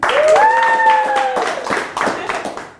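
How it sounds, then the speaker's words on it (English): A short burst of audience clapping and cheering votes for the third of three oranges, with a voice rising in a drawn-out call over the dense, close applause. "we'll go by your applause"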